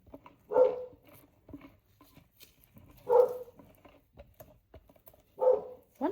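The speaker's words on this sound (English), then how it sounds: "And that is my dog outside barking at something." A dog outside barks three separate times, each bark spaced a few seconds apart and heard at a moderate distance, with light clicking and quiet room sounds in between.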